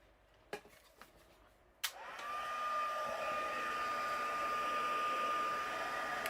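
A heat tool switches on after a few light taps and blows a steady, loud whooshing whine with a high tone while heat-setting a paper card sketch, continuing evenly with no talk.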